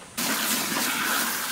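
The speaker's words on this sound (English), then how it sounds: "Now there's always some left in the bucket, so rinse it out again, throw that into your tank." Rinse water poured from a bucket into a lawn sprayer tank, a sudden steady gush of splashing liquid close by, with no talk.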